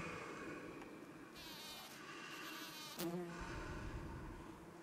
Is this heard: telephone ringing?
no